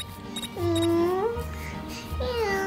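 Two drawn-out, high cat meows from the video game Scary Teacher, each rising then falling, with a low steady hum and faint electronic chirps underneath.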